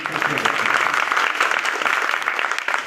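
Audience applause at an All India Majlis-e-Ittehadul Muslimeen political meeting, a steady dense patter of many hands clapping close and loud throughout, with no break.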